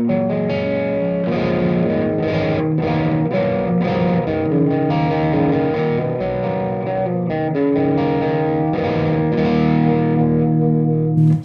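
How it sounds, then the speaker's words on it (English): Distorted metal guitar through a 2x12 cabinet with V30 speakers captured by a room mic, heavy chugging riffs played continuously with an ambient, roomy tone, loud and alone. "let's actually solo out this, what I chose for that, which is another 2x12 with V30s mic'd up with a room mic"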